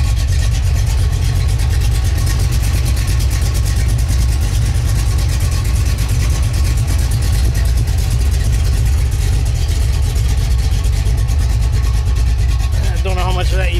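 A 1978 Chevrolet Malibu Classic idles steadily through a custom exhaust with an X pipe and cutouts, its deep, rumbling note staying loud and constant throughout.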